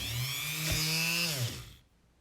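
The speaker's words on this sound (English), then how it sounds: "I've drilled and drilled." Handheld power drill boring a hole through a clay ornament, a steady whining motor buzz for about a second and a half that winds down and stops, close and alone.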